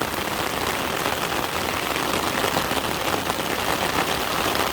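Heavy rain pours down steadily at a fishing spot, a dense, even hiss of drops hitting surfaces with no pauses.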